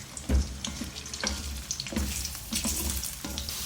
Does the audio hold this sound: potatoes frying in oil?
yes